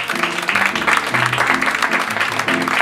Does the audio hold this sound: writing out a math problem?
no